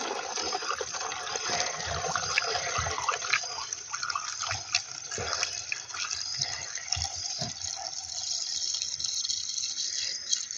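Premium additive gasoline poured into a container while mixing one litre of fuel for a two-stroke earth auger engine outdoors, a steady close splashing, trickling flow running throughout.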